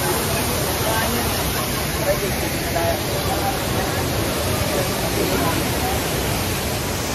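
Pinlac Falls roars as a dense, unbroken rush of falling water that fills the whole clip, loud and close, with voices faintly mixed beneath the constant noise.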